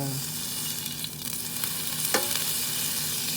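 Beef strips for Filipino bistek hit preheated vegetable oil in a pan, giving a steady, close hiss of frying with a few sharper crackles and faint utensil clicks, no talking.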